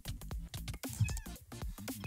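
Cats in a Minecraft-style video game meowing repeatedly in short, closely spaced cries with a few longer wails, fairly close and alone without speech.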